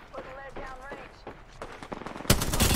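Speech at first, then a sudden loud burst of rapid automatic gunfire in Apex Legends fills the last half second, sharp and close.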